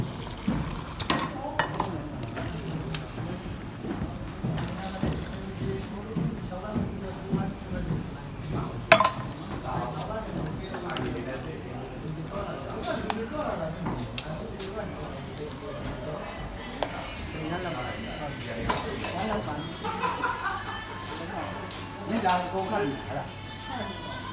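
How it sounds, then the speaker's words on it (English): Milk tea is made in a small cafeteria, with cups, spoons and dishes clinking and clattering in scattered bursts, plus faint stirring and pouring, while people talk in the background. "He is preparing milk tea."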